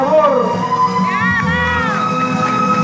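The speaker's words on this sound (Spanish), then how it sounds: "Y ese aplauso para el amor." Audience at a Los Iracundos tribute show applauds and cheers loudly, with whoops and shouting voices in a dense crowd roar that holds steady throughout.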